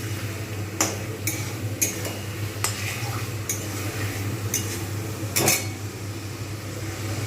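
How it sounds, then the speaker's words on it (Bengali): Chicken frying in a thick, heavy kadai for chicken biryani, a low steady sizzle with repeated sharp clinks of a spoon or spatula against the metal, close up and irregular, no talking. "এরকমভাবে আমি কিন্তু ভালোভাবে চিকেনটা ভেজে দেবো"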